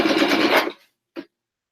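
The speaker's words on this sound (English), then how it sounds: "I'm going to stitch through all of the layers that we just did" A sewing machine stitches through several layers of a rein cover, running in a loud, steady burst for well under a second before stopping, followed by one short mechanical blip.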